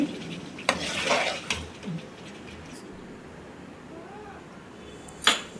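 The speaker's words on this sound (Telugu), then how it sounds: "ఈ చింతపండు గుజ్జులో ఉప్పు వెల్లుల్లి రెబ్బలు కూడా వేసి ఆ తర్వాత చిక్కుడుకాయలు వేయాలండి" Broad beans are dropped into a pot of tamarind pulp with salt and garlic cloves for a pickle, making clattering, scraping pot and utensil sounds in a short flurry. A sharp clink follows near the end.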